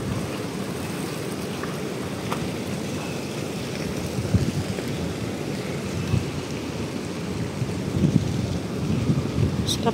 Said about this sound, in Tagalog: Sarap ng hangin dito pag gabi.